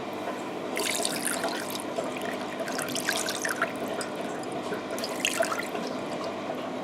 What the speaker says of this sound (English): we're pouring out the milk